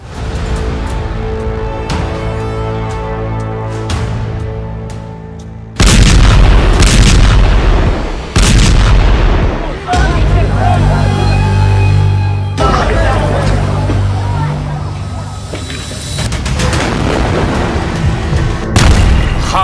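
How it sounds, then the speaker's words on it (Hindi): Heavy, repeated booms of artillery shells and explosions in Gaza erupt loudly, rumbling and reverberating in bursts, with further blasts and rough ambient noise in between and some speech-like sounds. "गाजा में गिरते गोलों के बीच"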